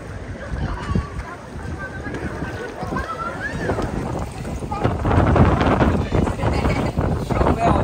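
Seaside water splashing beside a boat or shore, broadband gusty washes building louder toward the end, mixed with wind buffeting the microphone while people chatter over it.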